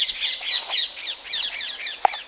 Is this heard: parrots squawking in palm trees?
yes